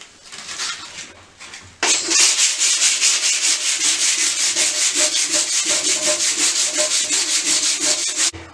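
Painted metal radiator being rubbed down with P180 sandpaper, a steady rhythmic scratchy back-and-forth sanding close up, lighter at first then loud and continuous with regular strokes.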